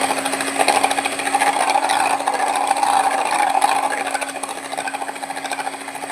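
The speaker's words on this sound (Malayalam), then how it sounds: "കോഴിമുട്ടയുടെ വെള്ള എടുത്തിട്ട് അതിൽ കുറച്ച് ഉപ്പിട്ടതിന് ശേഷം നമുക്ക് നന്നായി ബീറ്റർ വെച്ചിട്ട് ബീറ്റ് ചെയ്തെടുക്കാം" Electric beater whipping egg whites with salt for an omelet, a steady close whirring motor drone running without a break throughout, with a constant high hum and no talking.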